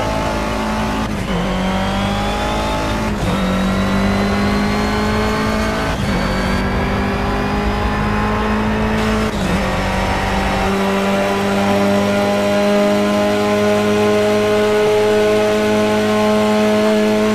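Race car engine lapping Mount Panorama in the video game Project CARS, a loud, close, continuous roar that climbs in pitch through the gears with brief dips at each shift, then settles into a sustained high-speed drone.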